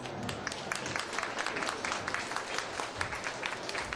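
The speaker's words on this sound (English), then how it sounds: "Please give him a big round of applause" A dinner audience at an anniversary celebration in New York applauds an ambassador, steady even clapping from a large room heard at a moderate distance with no speech over it.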